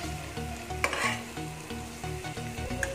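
Egg fried rice is stirred in a hot pan, with a soft constant sizzle under rhythmic spatula scrapes and knocks against the pan.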